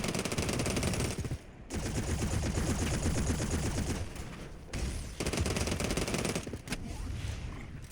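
Continuous loud automatic gunfire in the game Hawked, a dense rapid stream of shots aimed at an enemy, broken by a few brief pauses between bursts.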